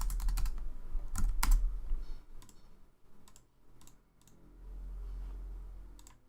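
Bursts of rapid keystrokes on a computer keyboard during a coding session, with clicky clusters and pauses between them, fairly close and moderately loud over a low background hum.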